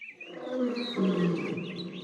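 A tiger roar sound effect, used in a French spoken folk tale about a tiger and a brahmin, rumbles loud and continuous for about two seconds with no voice over it.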